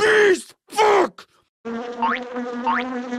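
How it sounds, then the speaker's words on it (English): Two loud shouted bursts, then a steady buzzing drone of bees from a Donkey Kong game, with a couple of rising whines, close and continuous. "God damn those fucking bees! Oh, those bees!"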